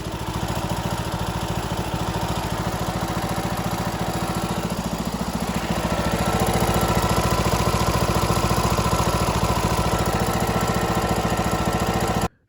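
The Briggs engine on a John Deere D105 riding mower idles close by in a steady, loud chugging rumble, rising slightly midway and running evenly until it cuts off at the end.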